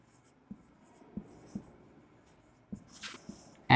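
A pen writes an answer by hand in a quiet room, heard as faint scratching strokes with a few soft taps spaced across a few seconds and a brief louder rustle near the end.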